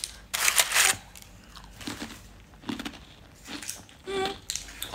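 Crisp bursts of a biscuit brought back from Russia being bitten and chewed close to the mic, several separate crunches with quiet gaps between them.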